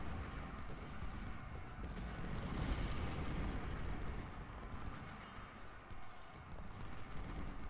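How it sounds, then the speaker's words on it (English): Artillery canister fire in the Ultimate General: Civil War battle at Marye's Heights, a dense, continuous rumble of booming volleys and crackling gunfire that swells and fades without clear separate shots. "canister fire."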